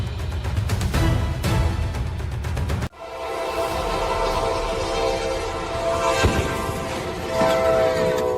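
A train at a railroad crossing: a loud horn blast and rumble at first, then after a sharp cut a passing train with clattering wheels and a sustained horn-like tone, close and loud.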